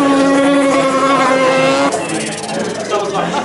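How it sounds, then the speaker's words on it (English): A car with a Mazda 13B bridgeport rotary engine doing a burnout at a motorsport event: a loud, buzzing high-revving engine note that breaks into harsh, roaring tyre-spinning noise, close and continuous. "This is the noise that rotors make at CUDA. Motive DVD, we're at CUDA Mundra. 13B Bridgeport. A little burnout before we do the CUDA run."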